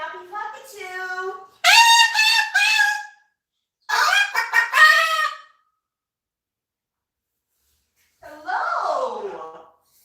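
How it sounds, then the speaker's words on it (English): A cockatoo on its perch lets out loud, close, harsh honking squawks in several bursts separated by silent pauses. "One happy cockatoo."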